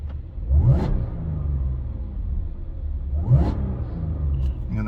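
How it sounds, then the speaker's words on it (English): A car with a straight pipe exhaust, its exhaust system closed, idles with a low rumble and is revved in two short, sharp blips a few seconds apart. "I'm gonna do some revs and you can see the difference."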